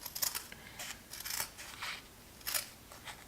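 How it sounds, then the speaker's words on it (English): Scissors snipping through moleskin in a few short, crisp bursts with brief pauses between cuts, close and fairly clear, with no voices. "I'm going to cut right here on my line."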